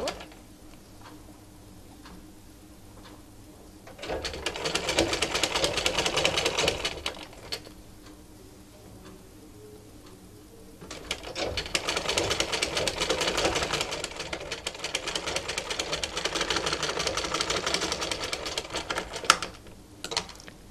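A domestic sewing machine stitches baby frock fabric with raglan sleeves, running in two sustained loud bursts of rapid mechanical ticking separated by a quieter pause, with no talk.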